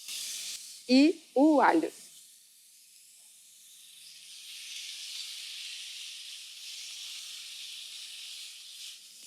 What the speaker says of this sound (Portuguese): a carne que está sendo selada aqui